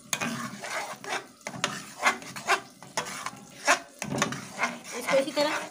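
Freshly made chhena for kalakand being stirred in a pan over low heat, with a series of uneven scraping strokes close by, each rising and fading at an irregular pace.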